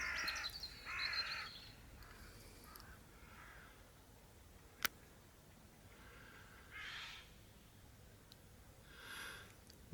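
A Eurasian jay calls from a tree in a rural river valley with a few harsh, rasping screeches. It sounds faint and distant, with quiet gaps and a single sharp click in between.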